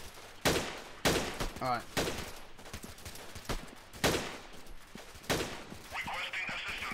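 Bursts of gunfire in the guerrilla-warfare video game Freeman: Guerrilla Warfare, several sharp loud volleys spaced through the moment, with a voice speaking briefly between shots.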